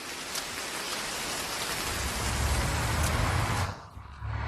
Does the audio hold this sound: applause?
no